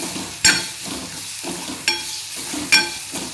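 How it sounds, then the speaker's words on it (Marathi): Tomatoes with homemade ground garam masala in a pan for a soybean keema, potato and cauliflower curry, three sharp stirring scrapes over a low, soft sizzle. "आता हे टमाटे टाकून घेऊ आपण. त्यानंतर परतत राहायचं."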